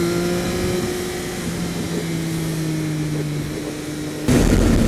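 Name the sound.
Triumph Speed Triple RS motorcycle engine accelerating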